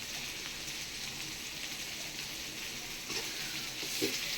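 Ridge gourd peel and lentils frying in a pan for a Chettinad-style thuvaiyal, a steady soft sizzle with faint stirring scrapes near the end, no voices.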